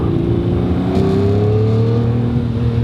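A Lamborghini Murcielago's V12 engine drones loudly from inside the car while driving, a steady harmonic hum slowly rising in pitch as it accelerates.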